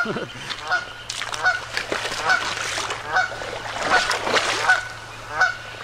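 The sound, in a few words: goose honking near its nest by a canal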